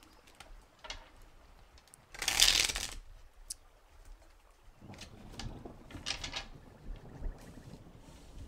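Cards from a Radiant Tarot deck are shuffled in one short, brisk burst, with faint ticks and soft handling sounds before and after in a quiet room.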